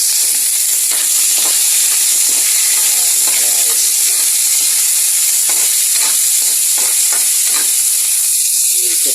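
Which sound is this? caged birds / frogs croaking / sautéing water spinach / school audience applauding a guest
sautéing water spinach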